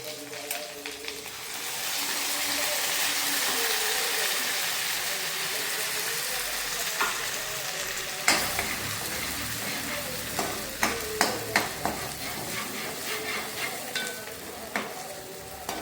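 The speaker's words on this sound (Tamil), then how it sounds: "சிறிது எண்ணெய் ஊற்றி கடுகு போடவும். கடுகு பொரிந்தவுடன் கறிவேப்பிலையை போடவும்." Mustard seeds, curry leaves and ginger-garlic paste fry in hot oil for a mutton kulambu, giving a steady loud sizzle with a later run of popping crackles and spoon scrapes against the pan, up close and without talk.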